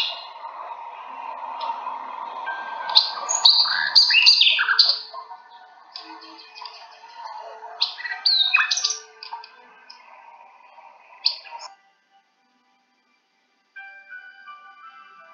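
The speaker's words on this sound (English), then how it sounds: "Sound of bird." Birds chirping and tweeting in quick bursts of bright, high calls over a low background hum, pausing briefly before a few faint chirps return.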